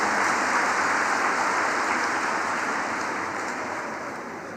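A large audience at a judicial conference's inaugural session applauds loudly and steadily to greet the inaugurator, a dense wash of claps that slowly fades toward the end.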